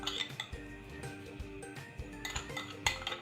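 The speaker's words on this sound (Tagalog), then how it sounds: "i-mix na natin yung sauce na ginawa natin kanina dito sa ating fruits na na-slice" Utensils clink and scrape against a bowl as sauce is mixed into sliced cucumber and pineapple for a salad, a steady run of close, light clatter with repeated sharper knocks.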